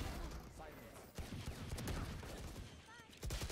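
Gunfire in a first-person shooter match, several shots and bursts sounding close and loud, with players talking over them throughout.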